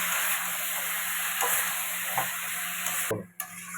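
Tomato, turmeric, crushed chilli, salt and a homemade spice mix are stirred together in a hot pan, giving a steady close sizzle and hiss with faint scraping strokes and a brief break near the end.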